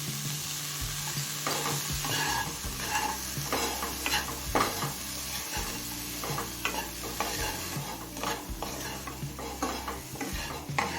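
Coarsely chopped onion fries in a pan with spiced mixed vegetables for oats pulao, a steady sizzle broken by regular spatula scrapes and stirring knocks, close and without talk.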